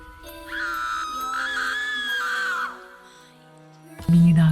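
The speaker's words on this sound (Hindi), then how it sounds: "मीना चिल्लाती है।" A woman's long, wavering scream rises and falls for about two seconds in a Hindi horror story, then cuts off before a sudden loud thud.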